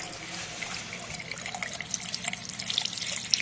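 Hot water from a propane tankless water heater runs steadily out of a tap, a continuous close hiss and splash with small trickling variations and no voices.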